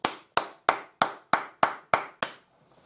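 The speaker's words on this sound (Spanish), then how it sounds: "Os aplaudo." Eight sharp hand claps in a steady, even rhythm, close and crisp, then silence.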